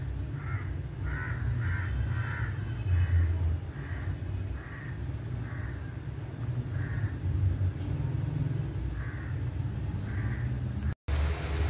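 Several crows caw repeatedly in short clusters at mid distance over a steady low rumble of traffic, calls coming in irregular bursts.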